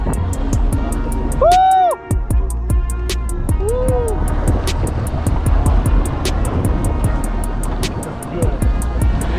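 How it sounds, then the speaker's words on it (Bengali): A motorboat engine drones steadily during a ride at Steep Rock, Manitoba, with people talking and calling out loudly over the running motor. "ভাই ইঞ্জিনের সাউন্ডটা"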